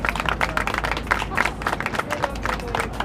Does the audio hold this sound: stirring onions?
no